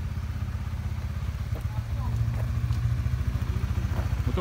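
A new motorcycle on a group road ride through Perlis and Kedah hums with a steady, rapidly pulsing engine note, fairly close, while voices chatter over it.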